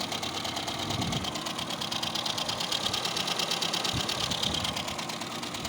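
A ZAZ Tavria fuel-injected car engine, just rebuilt after cylinder head repair, idles steadily outdoors with a continuous rumble and faint ticking, running alone without any voices throughout.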